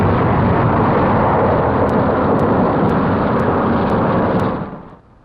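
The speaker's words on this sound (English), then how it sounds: "Here is real pinpoint bombing. One of the last bridges between the invasion coast and Paris gets it." Wartime aerial bombing of a bridge between the French invasion coast and Paris in 1944 roars as a loud, continuous rumble of explosions and aircraft, steady throughout before cutting off near the end.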